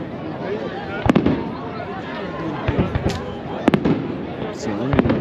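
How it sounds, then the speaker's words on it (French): New Year's Eve fireworks bursting over a lake on a misty night, scattered sharp cracks and booms at middle distance under steady crowd chatter and nearby voices. "donc le feu d'artifice, c'est pareil."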